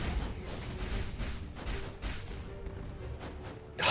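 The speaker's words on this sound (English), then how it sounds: "God, it's so much explosions." Game explosions in Skul: The Hero Slayer, a continuous chaotic rumble of overlapping bursts at moderate level, ending in a sharper louder blast.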